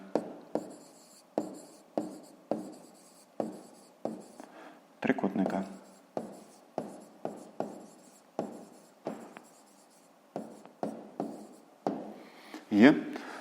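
A math answer being written by hand on paper, with short repeated scratching strokes in a steady rhythm, close and quiet, a voice briefly heard among them.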